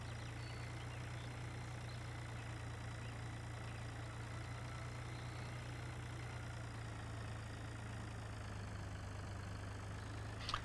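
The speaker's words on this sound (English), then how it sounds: "I think this was the smallest tractor I could get that still had a beacon" A small tractor fitted with a beacon idles in the Farm Sim 2013 video game, a steady low engine drone that holds at an even level throughout without revving or changing pitch.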